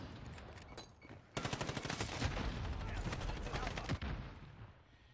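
Rapid gunfire in Modern Warfare, a dense burst of sharp repeated shots following a few scattered earlier reports, fairly quiet overall and trailing off near the end.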